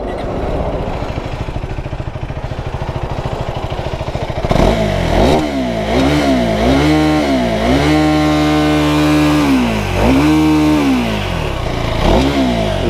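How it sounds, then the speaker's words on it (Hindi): A 2026 KTM Duke 390 naked motorcycle idles roughly, then its single-cylinder engine is blipped repeatedly, close and loud, each rev climbing sharply and falling back, running up toward a soft rev limiter with no talking. "अब KTM की आवाज़ सुना देते हैं एक बार आपको।"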